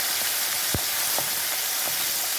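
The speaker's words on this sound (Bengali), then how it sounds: "মূলোটা ভালো করে একটু চাপড়ে নেব, হালকা ভেজে নেব" Small pieces of half-steamed radish fry lightly in a pan, giving a steady, close sizzle with a few soft stirring scrapes, no voices present.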